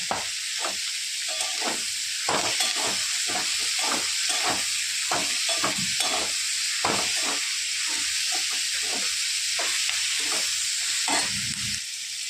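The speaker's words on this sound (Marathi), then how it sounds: "एवढा लसूण ते पण त्यावर भाजून घेणार" Garlic roasting in a hot pan, a constant loud hiss and sizzle with a regular rhythm of scraping stirs repeating every half second or so, close and without any voices.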